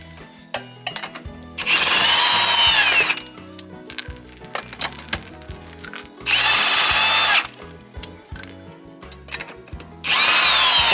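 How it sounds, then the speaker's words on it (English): A big impact wrench removes lug nuts from a Chevy Express van wheel during a brake job, firing three loud, sustained hammering bursts with clicks and rattles of handling between them. "I happen to have a big impact wrench"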